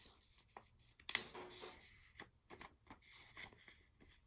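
A paper butterfly shape is folded in half, giving quiet, close rustling and rubbing strokes in short bursts with a sharp crinkle partway through.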